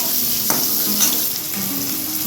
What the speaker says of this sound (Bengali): এতে আমি নুন আর হলুদ দিয়ে আলুটাকে ভাজবো